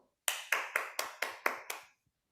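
Seven sharp, evenly spaced hand claps from one nearby person at an online Toastmasters meeting, alone in an otherwise quiet room, ending after about two seconds.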